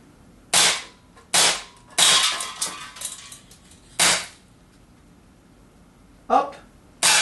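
Shots from an STI Duty One 1911 4.5mm blowback CO2 air pistol fired at targets: about six sharp, loud cracks at irregular spacing, with faint rattling and small impact sounds between some of them, near and without talk.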